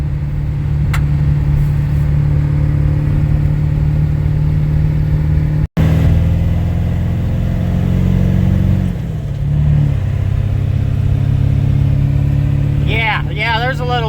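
A Ford 7.3 Powerstroke diesel in an OBS truck with bellowed up-pipes and the EBPV deleted drones steadily and close, then briefly revs higher with a rising whine near the end, under passing voices.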